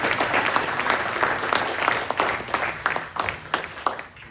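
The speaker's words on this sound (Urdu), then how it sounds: "ایک زوردار تالی آپ کی طرف" Audience applause at an Urdu poetry recital (mushaira) in Houston, a dense, steady wash of many hands clapping, fairly close and full, lasting several seconds and thinning slightly toward the end.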